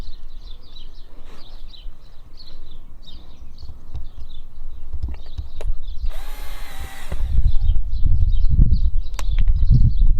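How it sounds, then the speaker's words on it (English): A power drill drives screws into a horse hoof lift in short bursts, with a longer whirring run midway, as birds chirp steadily and hooves or shuffling thump in the background. "now we'll put the rest of the screws in"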